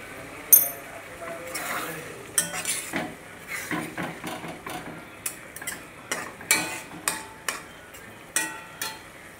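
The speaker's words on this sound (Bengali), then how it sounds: "এখানে একটু শেষে আমি ঘিটা ছড়িয়ে দেব, দিয়ে একটু নাড়াচাড়া করে নেব।" A spoon scrapes and clinks against a pan while an egg dish is stirred after ghee is sprinkled over it, giving irregular close metallic taps and scrapes over a faint sizzle, with no talking.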